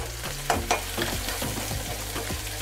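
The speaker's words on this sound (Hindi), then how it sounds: "अब यहाँ पे हम आधा चम्मच लहसुन का पेस्ट डाल देंगे" Half a teaspoon of garlic paste and a green chilli for restaurant-style chilli paneer fry in a pan with a steady close sizzle, punctuated by a few sharp stirring clinks and scrapes.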